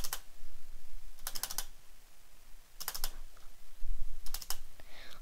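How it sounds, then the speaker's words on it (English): Computer keyboard space bar hammered during a game, short bursts of rapid clacking keystrokes in four clusters with pauses between, close and clear. "Sorry if you hear spamming the space bar."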